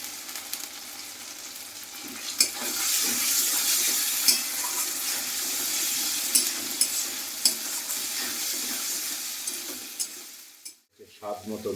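Chopped tomato hits a hot pan with cumin paste for Bengali potol chingri, pointed gourd with shrimp, giving a steady sizzle under repeated scraping stirs, then cutting out briefly near the end before resuming.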